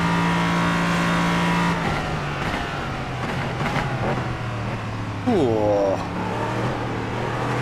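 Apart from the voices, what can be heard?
race car engine and braking in a racing video game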